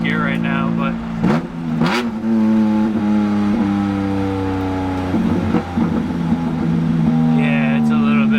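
A loud, droning side-exit exhaust on a BMW M3 GTR holds steady while cruising in fourth gear, close and constant, with someone talking over it.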